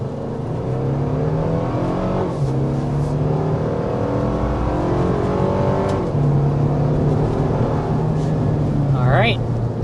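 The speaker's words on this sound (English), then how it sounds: "But first, we need to start with a hard acceleration." A 2026 Toyota 4Runner SUV pulling away under hard acceleration toward 60 mph, a steady engine drone rising in pitch through gear changes, heard from inside the cabin, close and continuous.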